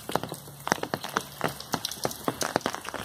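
Rain falls and patters close by on a surface, a dense irregular scatter of drops striking under an umbrella with no talking.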